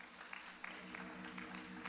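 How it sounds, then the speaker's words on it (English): Congregation applauding worship singers inside a church sanctuary during an Easter Sunday morning service, a steady wash of clapping that swells slightly partway through and holds for the brief moment. "Let's give them another round of applause."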